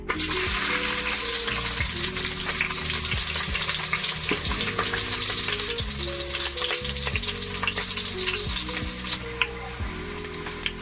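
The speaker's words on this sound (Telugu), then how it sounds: "ఇప్పుడు ఆయిల్ హీట్ అయిపోయింది కదండి, మనం దీంట్లో ఫస్ట్ ఆనియన్స్ వేసుకుందాం" Onions frying in hot oil for Andhra-style fish curry, a loud continuous sizzle throughout with stirring scrapes and some background music, close and steady.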